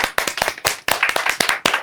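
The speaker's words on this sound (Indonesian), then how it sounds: "Tepuk tangan buat Nana." A small group claps their hands in quick, uneven bursts, with about a dozen sharp, close claps in under two seconds.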